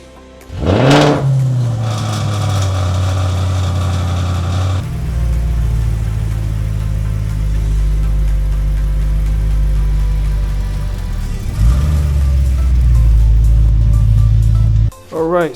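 A car engine, in a workshop where an Audi RS5 is being repaired, idles steadily and close with a heavy low rumble, punctuated by a couple of brief revs and loud shifts as the car is moved.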